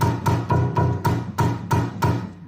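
Troll dolls rattling inside a homemade music machine, their rattle deadened: eight evenly spaced, dull thumping rattles in a steady rhythm, fairly loud and close, with no talking.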